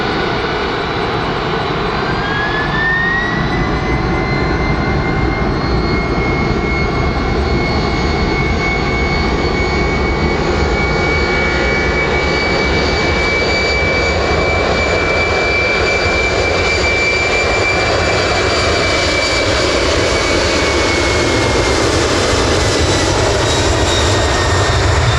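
Boeing 767-300ER of Japan Airlines on its takeoff roll at Takamatsu Airport, a loud, steady jet engine roar building with a rising turbine whine that holds through the run, close and continuous with no talk.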